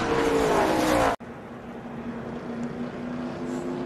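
NASCAR Nextel Cup race cars running three wide, a loud roaring engine drone that cuts off abruptly after about a second, then a steadier, quieter engine hum carrying on underneath.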